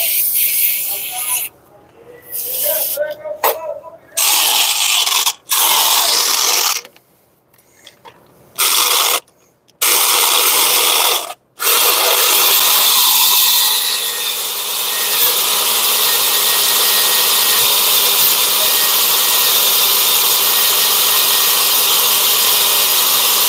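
A drill bores into a broken wheel stud on a Spicer axle hub with a 5/16 inch (8 mm) bit, grinding in bursts broken by pauses, then running steadily and loud for the last stretch.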